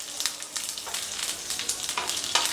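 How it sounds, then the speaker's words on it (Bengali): Black mustard seeds, two dried red chillies and a few curry leaves spit and crackle in hot oil, a steady close sizzle with sharp popping bursts throughout. "তো তেলটা গরম হয়ে গেছে, তেলের মধ্যে আমি দিয়ে দিচ্ছি সর্ষে, কালো সর্ষে দিচ্ছি আমি, আর 2টো শুকনো লঙ্কা, আর একটুখানি কারি পাতা।"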